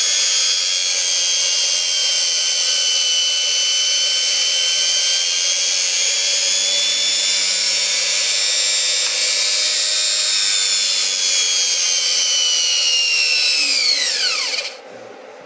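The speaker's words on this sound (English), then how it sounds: "it does the normal generator thing, bogs down the motor" A small electric motor driving a generator whines at a steady high pitch, loud and continuous, then drops sharply in pitch and dies away as it bogs down under the generator load near the end.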